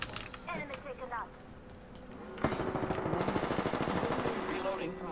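Rapid automatic gunfire bursts in the Apex Legends video game, sharp and loud, following quieter clicks and chirps, with a player talking over parts of it.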